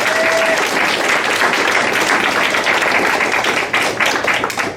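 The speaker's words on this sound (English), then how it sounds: "give me a big round of applause" Audience members at a city council meeting clap in a loud, continuous round of applause, with a few sharper, closer claps standing out near the end.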